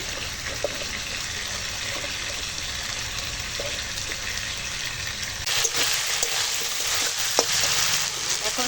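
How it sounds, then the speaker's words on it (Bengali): Potatoes and tomatoes sautéing together in a pan, a steady dense sizzle that swells louder partway through as food is stirred, with occasional utensil taps close by and no voices. "কেটে রাখা আলু টমেটো দিয়ে একসঙ্গে সব কষাবো"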